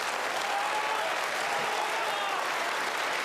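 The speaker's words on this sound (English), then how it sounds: "You hear them clap now." A snooker crowd at the World Championship claps as Judd Trump closes in on the title. The clapping is loud and even, a continuous wash of applause from a packed arena that holds steady throughout.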